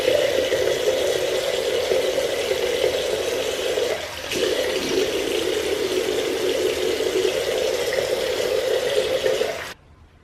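Running water rinses shampoo off eyelashes, a steady, close, continuous splashing flow that holds for about ten seconds before cutting off abruptly.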